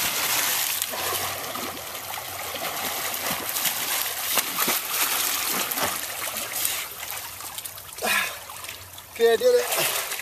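Swimming in cold Diablo Lake brings steady close splashing and trickling water, with bigger sloshing bursts near the end and voices partly heard over it.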